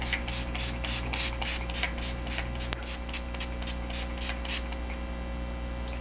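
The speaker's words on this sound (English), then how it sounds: "so he's going to do the all-over setting spray, so I'll do that." Urban Decay All Nighter setting spray misted in a quick run of about a dozen short, close, even pumps, then a brief pause and two or three more, over a faint steady room hum with no talking.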